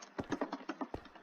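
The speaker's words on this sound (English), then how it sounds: "Got my world's loudest keyboard." A very loud computer keyboard being typed on during a Minecraft session, with a quick run of about eight sharp, close key clacks in uneven rhythm and no speech.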